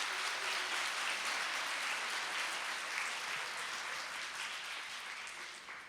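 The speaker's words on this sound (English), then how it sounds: "Can I get an applause for Michael and Tempa for what they put on, and all the volunteers?" A gala audience applauds steadily, a dense wash of many hands clapping at a distance that slowly fades toward the end.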